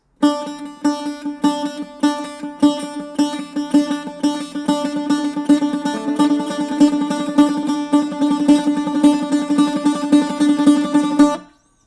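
A bouzouki plays a bright, fast, steady run of repeated notes in triplet groupings, continuous and close, ending abruptly.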